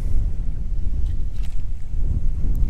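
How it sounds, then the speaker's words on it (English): Strong wind buffeting the microphone on a fishing boat out on the water, a constant low rumbling roar with gusty surges, close and steady with no talking. "That wind is a whipping."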